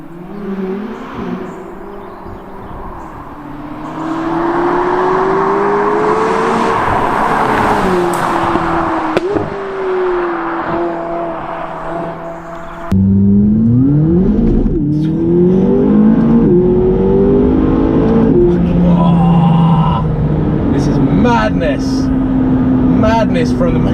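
McLaren 570GT sports car accelerating hard, its engine note rising in pitch through gears with a sharp jump in loudness partway as the revs climb, heard loud from inside the cabin.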